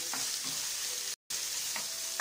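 Onion and pepper fry and sizzle in a pan with oil, a steady close crackle broken by short scraping stir strokes and one brief cut to silence midway.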